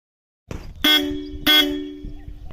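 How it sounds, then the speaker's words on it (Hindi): Two loud blasts of a Roots horn with relay on a motorbike, each a short bright honk, sounding close and alone with a low rumble of background noise in between. "हॉर्न की क्वालिटी काफ़ी अच्छी है, उसका वॉइस भी काफ़ी अच्छा आ रहा है।"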